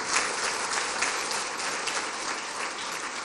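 Sustained audience applause fills an awards gala hall, a dense, steady wash of many hands clapping at even loudness throughout with no voices on top.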